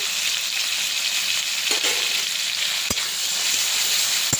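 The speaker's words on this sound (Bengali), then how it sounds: "এবার একটু ভাজা ভাজা করে নেব এটা" Shrimp paste frying in a pan with black cumin and a dried red chilli, a steady close sizzle with a couple of sharp clicks of a spoon or spatula against the pan.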